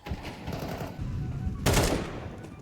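A single sharp gunshot cracks out over steady in-game background noise during a Counter-Strike 2 match, loud and close, with a commentator's voice faintly underneath.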